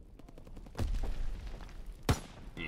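Sniper gunfire in a video game: two sharp, loud cracks about a second apart, the second strongest, over quieter game background.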